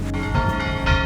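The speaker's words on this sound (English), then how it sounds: "That is an insistent church bell there." A church bell rings insistently with bright, sustained harmonic tones, struck repeatedly in quick succession, fairly loud and close, heard alone near the ruins of a ghost town in southern Italy.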